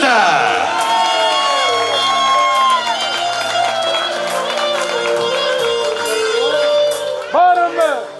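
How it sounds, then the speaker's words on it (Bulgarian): A loud crowd at a wedding celebration cheers, whoops and shouts, with scattered clapping mixed into the lively noise for several seconds. "А сега силни аплодисменти за Кенан и Тюркян, родителите на Булката!"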